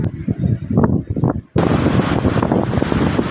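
A sea breeze blows across the microphone at Aroma Beach in San Jose on a morning, gusting in rough bursts that briefly drop out, then return as a dense, steady roar of wind.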